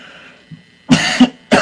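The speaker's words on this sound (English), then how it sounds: "I hate having sinus coughs" Sinus coughs from a person with a cold, a few sharp close coughs in two bursts after a quiet stretch, alone with no talk.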